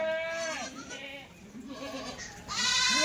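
Pregnant Kathiawari goats bleat loudly and close by, several overlapping wavering calls, with a strong fresh bleat breaking out near the end.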